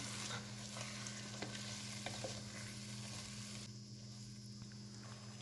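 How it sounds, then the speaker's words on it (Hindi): Spinach stirred into chicken cooking in a pan for palak chicken, a steady scraping stir over a low sizzle, moderately quiet, with no talking. "अब हम इसमें पालक ऐड करेंगे। पालक को अच्छी तरह से मिक्स करेंगे।"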